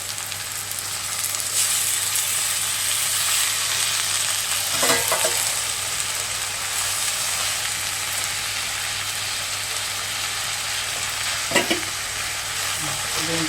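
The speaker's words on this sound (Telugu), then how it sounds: "అలా ఉల్లిపాయ పచ్చిమిరపకాయ వేగాక తోటకూర పెట్టేసుకోవడం" Onion, green chilli and amaranth leaves fry in a pan with a steady, close sizzle and occasional stirring scrapes, no voices.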